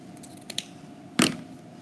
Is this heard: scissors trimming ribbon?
yes